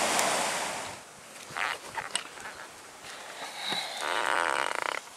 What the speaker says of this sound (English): the wind's still getting up